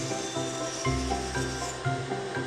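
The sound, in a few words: hand sanding a carved wooden fish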